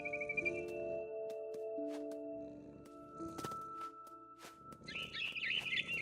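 Synthetic bird chirps and tweets from the video game What Remains of Edith Finch over a steady electronic musical drone, with several sharp clicks and a burst of trilling near the end.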